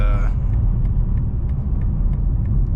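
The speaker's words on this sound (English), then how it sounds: "you can hear on the downshifts as well" A 2025 BMW M4 Competition with downpipes, valve controller and midpipe: deep exhaust rumble, steady and close, with faint periodic ticks and pops as the engine drops through gears.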